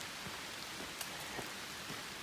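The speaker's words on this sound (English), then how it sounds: "and so it's raining, but not feeling much right now" Rain falling on a forest of still-leafy trees in Lake Lurleen State Park in October, a steady soft patter with scattered louder drops, heard without talk.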